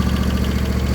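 An old lawnmower engine running on E15 fuel idles with a fast, steady, clanky chugging pulse, close and loud without talk.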